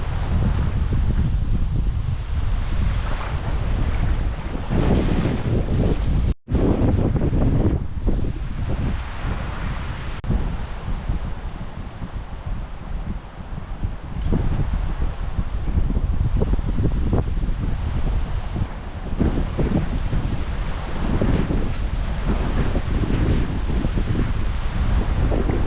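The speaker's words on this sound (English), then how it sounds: "the wind's died down a bit" Strong, steady wind gusting across a lake bank during a stormy carp fishing session at Hodgetts Norton Disney, a loud roar of buffeting wind noise filling the whole stretch with only brief dips.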